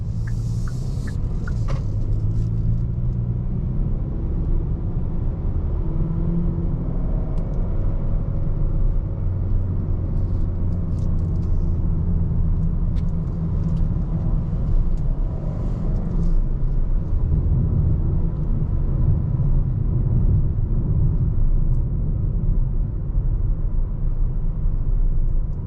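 A 2025 Kia K5 GT-Line rolls through an S-turn with a steady low engine rumble and road drone, continuous and close from start to finish, with no one talking.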